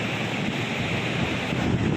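Sea waves at Shanghumukham beach beside a coastal road wash in a steady roaring surf, mixed with gusty wind buffeting the microphone, with no voices.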